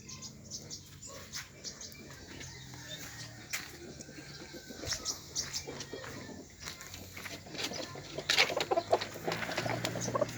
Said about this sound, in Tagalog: Ito yung manok namin.